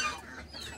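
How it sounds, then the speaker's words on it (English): A chicken that has gotten out of its fenced yard clucks close by in a short, quick burst of a couple of calls, with no speech. "This little chickie got out."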